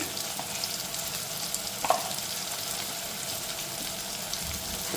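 Vegetables fry lightly with turmeric in a pan, giving a steady close sizzle with a soft stirring scrape partway through and no voices.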